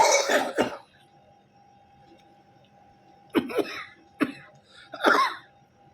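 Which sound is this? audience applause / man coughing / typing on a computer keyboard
man coughing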